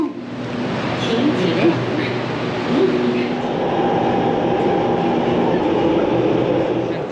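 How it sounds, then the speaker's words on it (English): A Shanghai Metro subway train carries riders through the tunnel, its steady close rumble and clatter of wheels filling the whole stretch with a faint squeal rising now and then. "Let's ride the Shanghai Metro."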